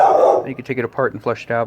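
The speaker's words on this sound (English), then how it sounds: "And that's our neighbor's dog." A neighbour's dog barks or whines once, briefly and fairly near at the very start, before someone talks over the rest.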